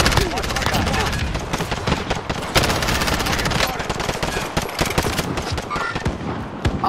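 Call of Duty Warzone gunfire, dense continuous automatic bursts that stay loud and close throughout, with a brief spoken exclamation mixed in.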